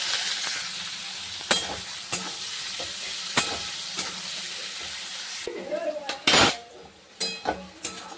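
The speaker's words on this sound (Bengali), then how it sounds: "এর মধ্যে এখন আমি পেঁয়াজ দিয়ে দিচ্ছি।" Onions frying in oil with potatoes and bay leaves in a pot, a soft steady sizzle punctuated by sharp clinks of a spoon against the pan and stirring scrapes, fairly quiet and close.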